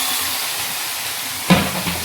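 Chicken meat being sautéed with spices in a pan for a Bengali curry, giving a steady broad sizzle with a sharper burst of hissing and stirring near the end.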